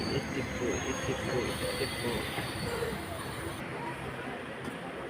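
A train pulls into Karunagappally railway station with a steady rumble of wheels on rails and a faint squeal, heard from on board amid muffled crowd noise.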